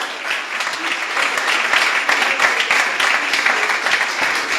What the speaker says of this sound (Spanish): Dale un aplauso al Padre.